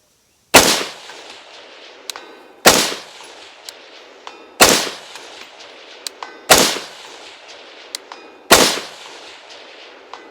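Five loud, sharp rifle shots from a Springfield Armory Saint Edge fired at steel targets 400 away, spaced about two seconds apart, each followed by a faint, delayed ring of steel being hit.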